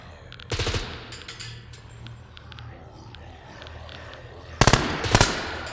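An AS Val rifle fires in the video game Scum: two short, sharp bursts of suppressed gunfire, one near the start and one near the end, separated by quiet ambience with faint distant pops.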